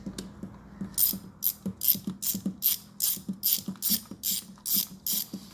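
A ratcheting T30 driver clicks in a steady, rapid series of sharp, close ticks while backing out bolts on a C7 Corvette engine cover, with no voices.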